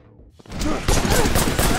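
Gunfire in the action game Wanted: Dead, a sudden sharp shot after a quiet moment followed by a loud rattling burst of rapid shots and clatter.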